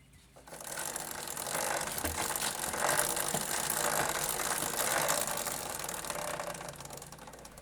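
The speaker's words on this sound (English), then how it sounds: "this was making the chain flap around dramatically" A worn, stretched motorcycle chain with loose patches and tight spots flaps and rattles in a steady, loud mechanical clatter that holds for several seconds.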